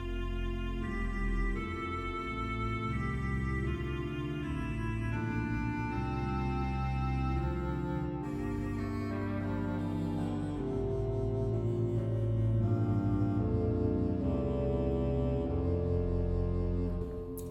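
Pipe organ stop with tremulant from the Bovenkerk in Kampen, Netherlands, played as a Sweelinq sample set: a steady wavering chordal passage with shifting sustained notes, soft and continuous for about seventeen seconds, no talking.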